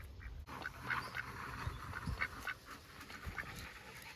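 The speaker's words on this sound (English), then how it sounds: "Don't pet the duck." A duck at an animal sanctuary quacking: a series of short nasal quacks in irregular bursts, fairly close, over steady background noise.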